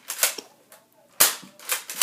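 A no-name Nerf toy blaster fires several times, each shot a sharp, close snap with brief gaps between.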